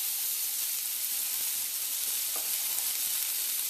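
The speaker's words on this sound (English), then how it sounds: "So in goes 1 small onion that I diced up finely," Finely diced small onion sizzles in hot oil in a pan, a steady soft frying hiss with occasional faint crackles and pops, heard alone and at a low level.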